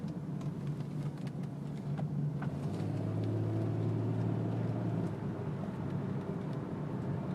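A 1999 Mercedes CLK320 on the move, a low, quiet, smooth rumble of road and engine noise heard steadily from inside the cabin, with a faint gear shift partway through.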